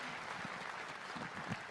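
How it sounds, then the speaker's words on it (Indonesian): Applause for a teacher at a National Teachers' Day speech event, a faint, distant patter of many hands clapping steadily. "Tolong tepuk tangan buat Pak Sukardi."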